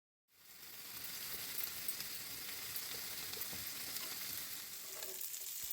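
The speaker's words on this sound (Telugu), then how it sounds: "నైట్ బాబు కోసమని ఫిష్ ఫ్రై చేస్తున్నాను" Fish frying in hot oil with garam masala gives a steady, dense sizzle with soft crackles that holds at an even level throughout, with no voices.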